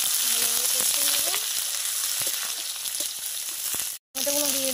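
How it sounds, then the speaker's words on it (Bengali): Onion and cumin seeds fry in hot oil in a wok, giving a steady, close, bright sizzle with light stirring clicks. A faint voice-like tone rises briefly in the background, and the sound cuts out for a moment near the end. "কড়ার তেলটা গরম হয়েছে, একটু জিরে ফোড়ন দিয়ে নেব, পেঁয়াজ দিয়ে দেবো, ভালোভাবে কষে নেব"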